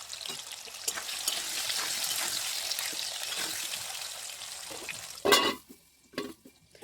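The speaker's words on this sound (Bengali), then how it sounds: "আলুগুলোকেও আমি ঠিক এমনই ভাজবো" Potato pieces fry in a pan with salt and turmeric, giving a soft continuous sizzle with light stirring, ended by a sharp metallic clatter and then near quiet.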